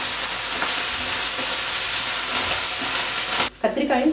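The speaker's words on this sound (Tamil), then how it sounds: "லைட்டாக பச்சை மிளகாய் எண்ணெயில் ஃப்ரை ஆனதுமே நம்ம கத்திரிக்காயை சேர்த்துக்கலாம்." Green chilies and brinjal frying in hot oil, a loud, dense, steady hiss of sizzling close up that cuts off abruptly near the end, followed by a brief quieter stretch of clatter.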